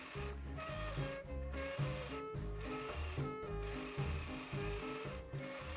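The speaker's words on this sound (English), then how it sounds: "then I serge all of the lace to the cotton lining" A serger stitches lace onto a cotton lining with a fast, even mechanical chatter, running in short steady bursts with brief pauses. It is close but fairly quiet.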